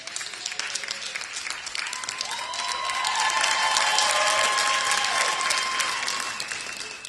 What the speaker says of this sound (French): on va t'acclamer quand même